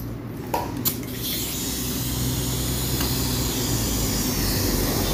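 Compressed air blasts a motorcycle engine part clean in a workshop, a steady loud hiss that runs continuously throughout, with a couple of faint clicks near the start.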